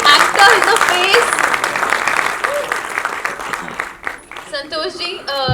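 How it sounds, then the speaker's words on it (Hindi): Applause from an audience greeting well-known Marathi film actor Santosh Mijgar at a song launch, dense and loud at first, then thinning and fading toward the end while voices carry over it. "जरा तालियां और जोरदार दीजिए"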